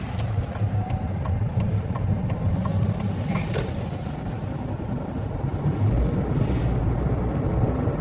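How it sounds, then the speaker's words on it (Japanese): A new Toyota Camry WS engine hums steadily with a low rumble while driving, mixed with road noise and a faint whine, no one speaking. "エンジン音もね気持ちいいんですよ"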